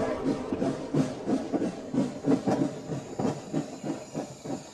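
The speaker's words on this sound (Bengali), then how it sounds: "ট্রেনটা স্টেশন থেকে বেরিয়ে চলে গেল।" A train leaving a station at night, its wheels beating a steady clickety-clack rhythm over the rails at moderate distance, with a soft hiss underneath and no voices.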